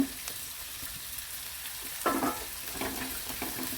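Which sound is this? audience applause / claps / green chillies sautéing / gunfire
green chillies sautéing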